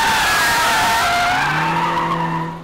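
Tires squeal loudly and continuously as a 2022 Mercedes-AMG CLA 45 S Shooting Brake drifts, the screech shifting in pitch while the engine note rises underneath, then fading slightly at the end.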